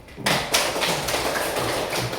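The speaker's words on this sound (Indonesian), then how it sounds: "Kalau itu kita tepuk tangan kita semua." Schoolchildren in a classroom clapping together, a dense, loud burst of hand claps close by, lasting about two seconds.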